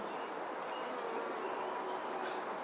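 Dense, steady buzzing of many honey bees shaken off a hive frame during small hive beetle treatment and frame feeder installation, filling the air continuously and close by, with no talking.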